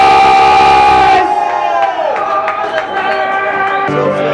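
A crowd at a beatbox show cheers and yells loudly in a big burst that fades into scattered shouts and whoops, with an amplified voice ringing over it.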